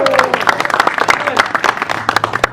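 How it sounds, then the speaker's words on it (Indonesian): Audience clapping at a boxing press conference face-off, brief and moderately loud, mixed with crowd noise and a voice speaking over it. "Tepuk tangan paling meriah."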